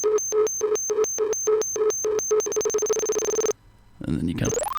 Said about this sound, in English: That's pretty much it, the R2-D2 sounds.